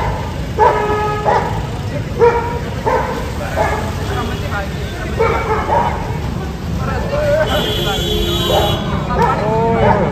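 A dog barking repeatedly at an ox fight on an Indian street in Rajasthan, sharp yelping barks in irregular bursts, loud and near, with a crowd babbling in the background.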